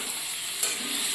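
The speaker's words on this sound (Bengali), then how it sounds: "এখানে এই যে মশলাটা এখন কষাচ্ছি" Spice masala sautéing in a pan for egg curry gives a steady, soft broadband sizzle with a faint scrape of stirring partway through, close and continuous, with no voices.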